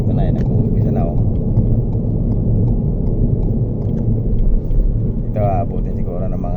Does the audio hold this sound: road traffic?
yes